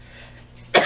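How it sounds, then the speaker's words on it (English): A single close, sharp cough bursts out after a moment of near silence. "Excuse my cough, my allergies."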